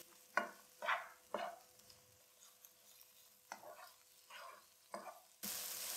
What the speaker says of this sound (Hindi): प्याज को सॉफ्ट करना है हमने मीडियम फ्लेम पे